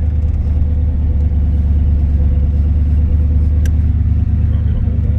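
A 1969 Corvette 427 coupe cruises down the road, its engine and road noise forming a loud, steady low rumble that fills the cabin without letup.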